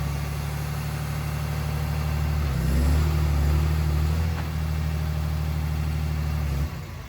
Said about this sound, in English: Once the process has started, the truck will increase RPM and start banging gears around.